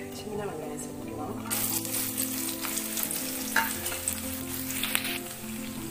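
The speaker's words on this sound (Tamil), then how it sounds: "எண்ணெய் சூடானதும் கடுகு, வெந்தயம், சின்ன வெங்காயம் சேர்த்துக்கலாம்." Mustard seeds, fenugreek and shallots hit hot oil with a sudden loud burst of sizzling after a quieter start, then a continuous crackling fry with scattered pops, heard close up.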